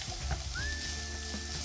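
Green peas and onions frying in a pan for a Punjabi gobhi keema matar, with a steady close sizzle throughout and a faint stirring scrape, no talking.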